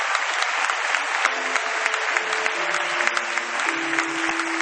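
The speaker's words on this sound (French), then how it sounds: "Si on croit, on acclame pour le Seigneur." A church congregation at an intercession and preaching service applauds for the Lord, with dense, steady clapping filling the whole stretch and a sustained tone humming underneath.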